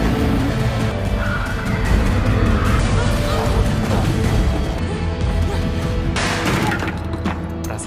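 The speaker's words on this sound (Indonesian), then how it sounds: "Agen 13 ditabrak mobil Ariel." A car in the action film The Shadow Strays strikes a man amid engine roar and squealing tires, with loud dramatic sound throughout, sharp hits near the end, and faint voices mixed in.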